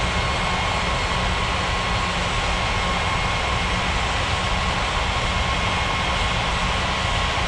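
A FedEx jet taking off from runway 23 in an air traffic control video game produces a continuous, loud, steady engine roar that fills the whole stretch without letup.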